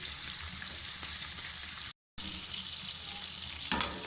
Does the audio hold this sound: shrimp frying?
yes